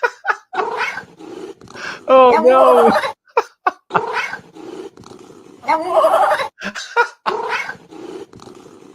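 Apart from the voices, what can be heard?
cat meowing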